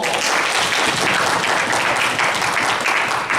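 An audience at a church youth Bible study workshop claps together, a dense, even burst of applause lasting a few seconds with no pauses.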